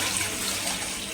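Water being poured into a cooking pot for seeraga samba rice pulao, a steady close-up rushing splash throughout with no talking.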